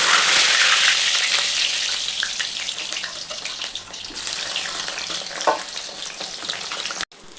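Potato and pointed gourd pieces hiss in hot oil in a pan, a bright, close, steady sizzle that eases slightly as it settles, with occasional stirring scrapes.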